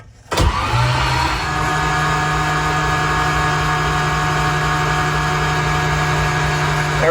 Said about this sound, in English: Let's hit the starter and see what happens.